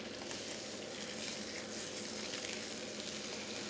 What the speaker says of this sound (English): pop that skin side down and just press into it so it stays nice and flat